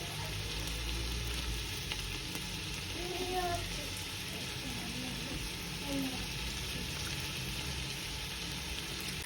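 Finely chopped tomatoes frying in a pan, a low continuous sizzle and bubbling with a few light stirring sounds, quiet and close, without speech.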